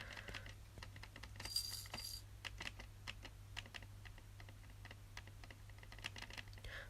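Steady typing on a Cherry MX Black mechanical keyboard, a dense run of crisp key clicks at an even rhythm, close to the mic over a constant low electrical hum.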